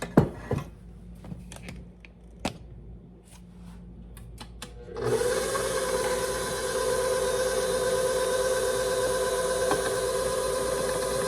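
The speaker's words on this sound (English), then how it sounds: "And mix that until just combined" Wet and dry zucchini batter ingredients are mixed in a bowl: first a few scattered knocks and taps over quiet, then a steady loud whirring mixer motor runs continuously to the end.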